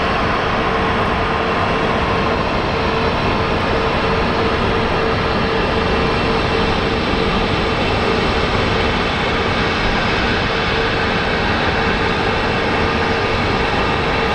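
Airplane landing at Phoenix Sky Harbor International Airport, a loud, broad, sustained roar of engine and rushing noise that stays steady throughout with no talking.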